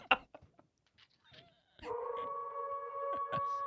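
A wolf howl sound effect starts partway through, a long sustained tonal wail holding steady after a stretch of quiet clicks and faint voices, with people talking around it.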